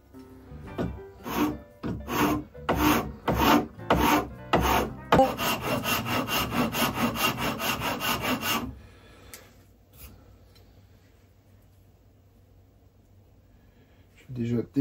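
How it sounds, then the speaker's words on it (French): Hand filing with an Oryu file, a run of rhythmic rasping strokes on the workpiece, first spaced then faster and denser, close and loud, followed by quiet handling, with someone speaking at times. "Je vais attaquer quand même avec la lime de chez Oryu."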